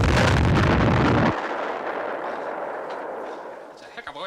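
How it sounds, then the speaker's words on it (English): A loud, deep bomb blast booms at the start, then a long rumbling roar of debris and echo slowly fades away. "we're going to hear the explosion"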